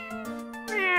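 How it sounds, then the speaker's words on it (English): A cat in the video game Phoenix Wright: Ace Attorney – Justice for All gives a short, clear meow, a bright tonal cry that rises at the end, close and alone. "What a lovely cat."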